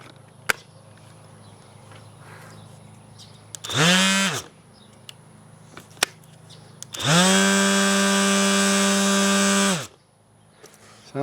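A DeWalt 20V random orbital sander (DW210B) on a 5Ah battery, run in two bursts: a short whir, then a longer steady high-pitched motor hum that spins up and winds down, with a few clicks between.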